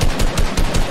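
Rapid bursts of automatic gunfire in a Squad multiplayer match, several sharp loud shots in quick rhythmic succession over about a second, with no talk.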